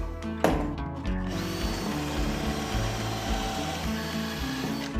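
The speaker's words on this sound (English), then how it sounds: "I'm going to take a Forstner bit and I'm going to drill 2 slightly offset holes" A power drill with a Forstner bit boring into wood with a steady, grinding whir, loud and close, beginning with a brief sharp knock.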